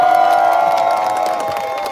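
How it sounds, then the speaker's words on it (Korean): Crowd at a labor union rally cheering and applauding loudly and steadily, a dense wall of claps and shouts that holds for the whole moment and fades only slightly toward the end. "우리 한결 동지들께 다시 한번 힘찬 박수 부탁드립니다"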